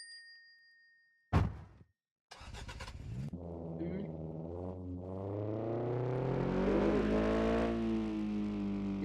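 In a video game, a chime and a few clicks, then a supercar engine starts and revs up steadily, its pitch climbing as it accelerates.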